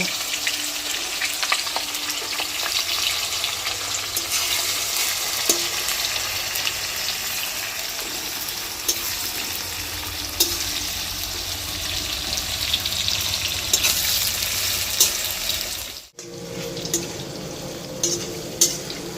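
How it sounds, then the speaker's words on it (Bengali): Onions fry in a pan with a steady, loud sizzle that continues throughout, briefly dropping away near the end before resuming. "পেঁয়াজটা আমি আস্তে আস্তে দিয়ে দেবো ভাজার জন্য"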